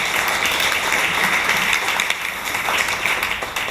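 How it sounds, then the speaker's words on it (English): Sustained applause from an audience welcoming a speaker at a space-economy talk, many hands clapping steadily at a fairly loud level without a break. "Please give a round of applause to Rachel."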